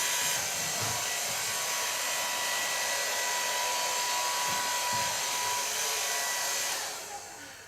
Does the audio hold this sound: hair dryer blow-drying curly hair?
yes